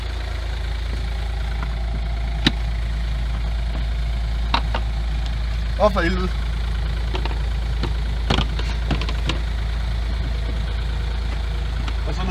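A Smart fortwo 0.8 CDI diesel engine idles with a strong, steady low rumble close by, broken by a few sharp clicks and knocks, and someone briefly exclaims partway through.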